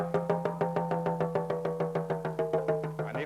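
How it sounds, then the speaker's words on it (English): A talking drum, beaten with a stick while squeezed, gives a quick, even run of about sixteen close, pitched strikes with a taut, ringing tone, played alone with no voices. "This is a talking drum."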